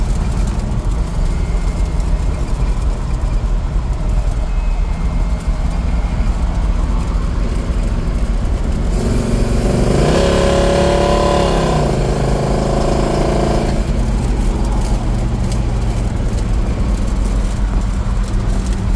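A stock small-block V8 in a 1975 El Camino rumbles at a steady drone, then climbs in pitch as it accelerates for a few seconds before settling back to a constant cruising hum.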